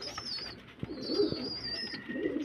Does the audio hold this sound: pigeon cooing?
yes